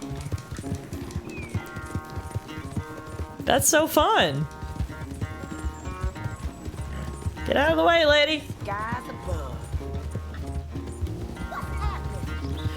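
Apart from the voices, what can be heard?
horse galloping in a race, from video game Red Dead Redemption 2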